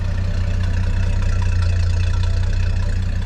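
A 1981 Ford 4.9L inline-six, converted to a two-barrel carburetor, idles steadily up close with a deep, even, low rumble and constant engine drone throughout, no voices.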